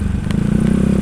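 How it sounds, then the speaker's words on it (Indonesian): Motorcycle engine fitted with a CMS aftermarket exhaust, idling with a steady low, throbbing rumble throughout a short stretch, close and fairly loud. "untuk kalian yang pengen denger suara knalpot ini dengan jelas"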